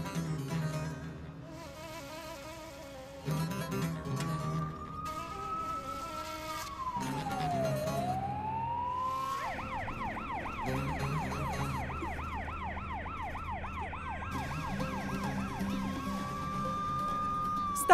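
An ambulance siren wails in a long sweeping tone, then shifts into a rapid up-and-down yelp that repeats steadily, heard moderately loud over a faint musical background with no talking.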